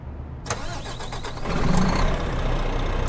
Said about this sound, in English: for our engine choice, it's the Renault DTI V6 straight pipe from Slav Jerry.